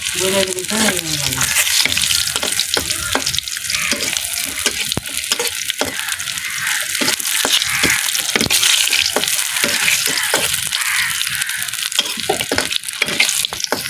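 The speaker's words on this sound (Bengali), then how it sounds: "ভালো করে ভেজে নেব শুকনোটা" Dried fish dry-fried in a pan, giving a loud, dense, continuous crackling sizzle with constant stirring and scraping, close up throughout.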